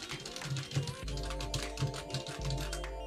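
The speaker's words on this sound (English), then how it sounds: "I got the batteries in here, my little Logitech wireless keyboard" Typing on a small Logitech wireless keyboard, a quick run of light key clicks close to the microphone against a steady low hum, with no talking.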